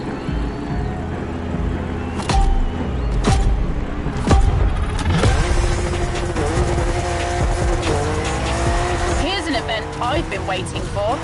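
A BMW M4 drifting in The Crew Motorfest video game, its engine droning steadily with rising and falling revs and intermittent tire squeal, while a voice talks over it.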